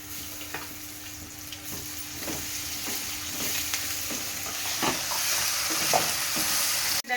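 Diced potatoes with ginger-garlic and curry leaves frying in oil in a home kitchen, a steady close sizzle broken by periodic scrapes of stirring, gradually growing a little louder, with no talk.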